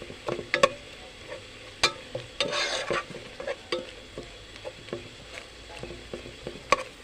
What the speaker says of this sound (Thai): เคี่ยวเคี่ยวเคี่ยวเคี่ยว ให้มันแตกก่อนนะคะน้อง